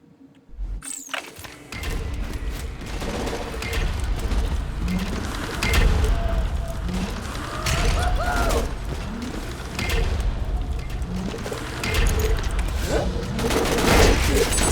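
Bandit shotgun blasts in Borderlands 2, a series of heavy booming shots spaced a second or two apart amid clanking weapon mechanisms and game music, loud and close.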